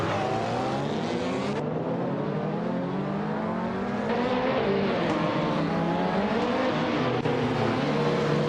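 A 2019 Ferrari 488 GT4 and other race cars at a race start roar in a dense, continuous engine drone, pitch rising and falling as they rev and accelerate, with no pauses.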